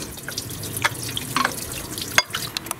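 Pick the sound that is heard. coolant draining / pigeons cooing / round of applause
coolant draining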